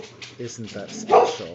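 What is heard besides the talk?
purebred boxer dog barking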